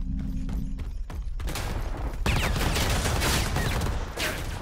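Dense bursts of video game gunfire from Predator: Hunting Grounds ring out continuously, with sustained rapid shots and loud booming impacts that grow heavier partway through.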